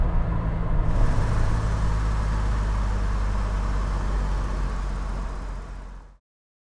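A BMW E9 3.0 CSi classic coupé drives at an easy pace, its steady low engine hum and road rumble continuous and close before cutting off near the end, with no talking.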